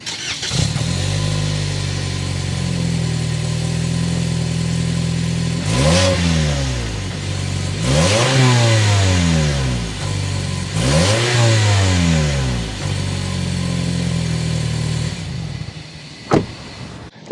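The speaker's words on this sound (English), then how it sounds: "start it up so you can hear that exhaust note" A 2023 Toyota Camry XSE four-cylinder engine idles with a steady low rumble, then revs several times, the exhaust note rising and falling sharply before settling back to idle.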